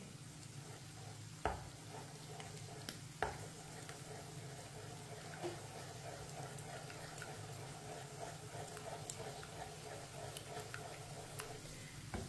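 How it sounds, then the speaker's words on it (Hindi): Two eggs are stirred into a frying pan for a lauki sabzi, giving a soft continuous sizzle with a few sharp spatula taps against the pan, and no voices. "दो अंडे डाल लेंगे। अंडों को मिक्स कर लेंगे।"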